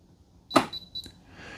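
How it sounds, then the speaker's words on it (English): A Mr. Coffee Perfect Brew coffee maker gives two short, thin electronic beeps after a mechanical clunk as it finishes brewing, close and clear in a quiet room. "We heard 2 little beeps, and now it's a count up timer."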